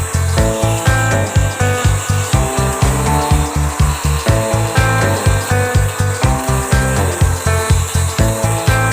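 A grinder smoothing down the edge of a door that sticks because it has expanded, a loud, steady motor hum pulsing in quick regular strokes as the tool works along the wood, with no talk.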